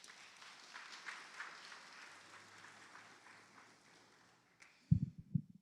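A congregation at an evening church preaching service in Pires do Rio, Goiás, applauds in a soft, distant, steady patter that fades out, ending with a few close thumps.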